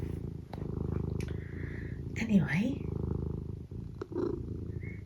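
A pet cat named Eric purring, a steady low rumbling pulse that continues throughout at close range, with a person briefly speaking over it partway through.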